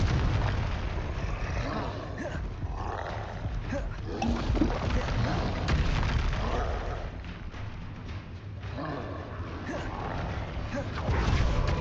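A magical explosion spell in the Hogwarts Legacy video game bursts amid battle, rumbling low booms and crackling blasts over a continuous noisy combat bed, moderately loud and sustained throughout.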